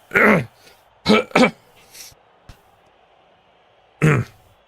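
A man with a frog in his throat clears it several times, making short, harsh, close bursts spaced over a few seconds with quiet gaps between them.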